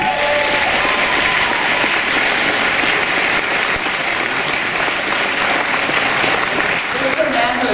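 Loud, sustained applause from a large crowd fills the whole stretch, with scattered cheers and voices mixed into the clapping.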